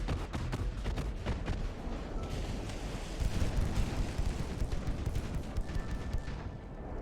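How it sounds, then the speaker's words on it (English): Warship secondary guns firing in the naval game Ultimate Admiral Dreadnoughts, a dense, continuous barrage of booming shots and rumbling blasts that stays loud throughout, with no talking. "I might as well show you what these secondary guns are doing"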